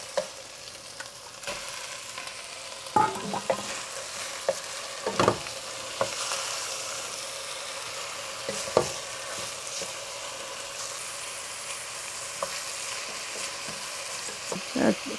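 Lamb meat fries with darkly browned onions in a pan, a steady close sizzle broken by scraping clicks and knocks as it is stirred.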